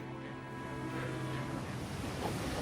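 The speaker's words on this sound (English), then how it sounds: "The seals are by no means a match for the power of the waves" Ocean waves surging against the Namibian shore, a continuous wash of surf with wind noise, swelling louder partway through and staying steady, with no voices.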